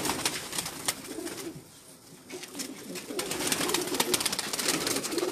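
Pigeons at a house coo on and off through a steady, noisy background that dips briefly in the middle before rising again, and no one speaks.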